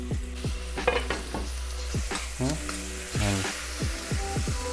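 Vegan meat filling with sauce is stirred in a pan on low heat, giving a soft sizzle under repeated scraping strokes of a utensil, close by, with a voice briefly heard.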